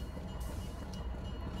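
A train rolls along the tracks in front of the listener, a steady low rumble of wagons with faint metallic squeals, heard alone.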